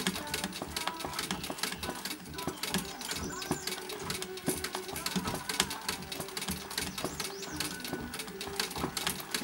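Vintage treadle sewing machine doing free-motion embroidery, stitching slowly with a steady mechanical clatter and rapid ticking of the needle, close and continuous throughout.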